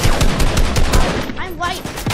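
Rapid bursts of gunfire in a Fortnite match, a string of sharp repeated shots that ring out loud and close, mixed with other game effects and a faint voice.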